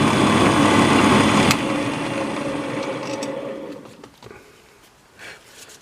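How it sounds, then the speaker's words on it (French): A power drill bores through the housing of a homemade 80W dive light. Loud, close whirring grinding lasts about a second and a half, then a lighter spinning whir winds down into faint clicks. "Et il suffit de percer la longueur nécessaire"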